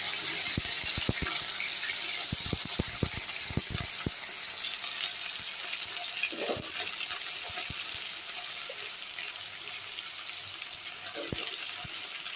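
Cut taro and potatoes tip into a hot pan of oil and sizzle steadily, with scattered sharp clinks and scrapes of a utensil against the pan over the continuous frying hiss.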